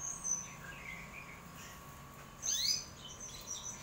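A magpie-robin chirps a few short, high tweets while being bathed, over a steady low background hum, faint and somewhat distant.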